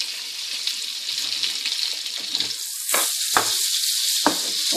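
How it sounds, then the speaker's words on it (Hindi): Garlic and broken whole dried red chillies sizzle in hot oil with a steady, bright crackling hiss, close and fairly loud, with a few louder spits and pops toward the end and no talking. "अब ये मैं इसमें ये जो साबुत सुरख मिर्च थी ये तोड़ के डाल देती हूँ"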